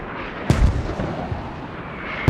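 Mortar rounds fire in the military shooter game Squad: two heavy, booming thumps about two seconds apart, each fading into a low rumble under a constant wash of background noise.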